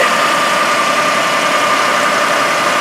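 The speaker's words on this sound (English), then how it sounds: "with your motor idling in park" Steady, loud hum of a car engine idling in park, an unbroken even drone with a faint tonal whine and no talk over it.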